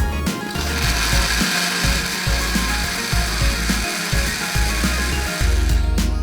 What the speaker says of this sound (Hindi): अब इसको मैं अच्छे तरीके से यहाँ पर ब्लेंड करूँगा